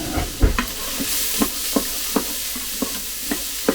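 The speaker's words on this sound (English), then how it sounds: "give them a little stir" Vegetables for a minestrone soffritto sizzle steadily in a pan while a spoon stirs them, scraping in a regular rhythm of about ten close, distinct strokes over the constant frying hiss.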